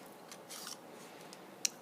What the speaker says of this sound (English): So I'm going to punch another one.